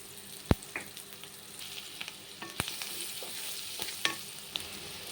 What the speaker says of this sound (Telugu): ఇదండి ఉల్లిపాయలు వేగుతా ఉంది